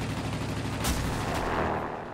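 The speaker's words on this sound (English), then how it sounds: "Enemy anti-aircraft fire." Anti-aircraft fire in the World of Warplanes video game makes a dense, continuous rumble of rapid booming bursts that stays loud throughout the short stretch, with no voices.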